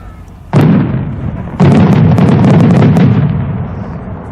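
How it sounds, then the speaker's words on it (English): A 6-inch Ozark Fireworks willow diadem shell with comets bursts into a spiral of reports, heard as one heavy boom followed a second later by a dense, sustained rumble of crackling reports that slowly fades. "next one is a 6-inch fireworks by Ozark Fireworks, and it's a willow diadem with comets that explode into a spiral of reports"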